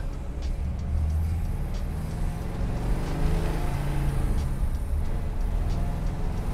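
A 1957 Ford Custom 300 with a 428ci V8 and manual clutch drives down a main road, its engine a steady low rumble with road noise, fairly loud and continuous throughout.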